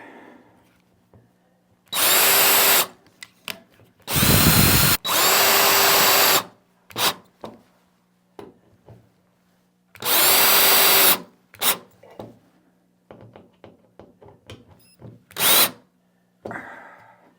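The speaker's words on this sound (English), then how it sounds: "I'm trying to drill holes for us so we can put up our little racks." A power drill whirs in several short bursts, each a second or so, separated by quiet pauses with small clicks and handling noises.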